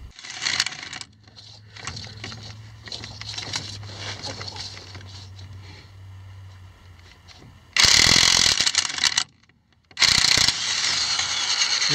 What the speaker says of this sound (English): I'm going to do that with this impact wrench right here